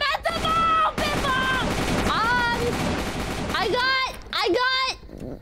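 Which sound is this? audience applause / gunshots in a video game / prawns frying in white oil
gunshots in a video game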